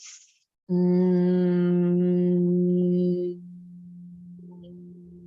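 A steady closed-mouth hum on one low pitch while the tongue moves around the mouth holds for a few seconds, then drops softer and wavers slightly, with no talking.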